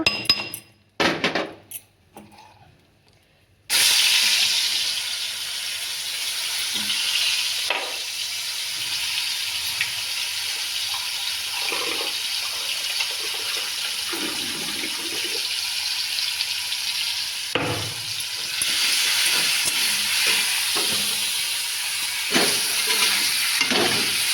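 Vegetables and masala frying in hot oil give a steady, loud sizzle that runs continuously after a few sharp bursts at the start, with occasional stirring clinks throughout.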